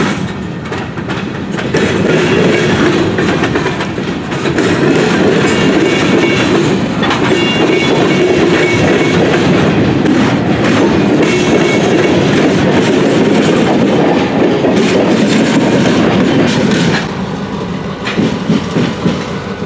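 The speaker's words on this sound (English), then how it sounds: "we watched as Canadian National 9561 ran around its train so it could continue north" Canadian National locomotive 9561 runs around its train at a station, a loud continuous rumble of diesel and rolling wheels with steady clickety-clack and faint wheel squeal, constant throughout and briefly easing near the end.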